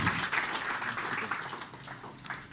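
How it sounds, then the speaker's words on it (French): An audience applauds after a start-up pitch at a contest, a steady wash of clapping that holds for a couple of seconds at moderate level, with no voices over it. "Applaudissez-les"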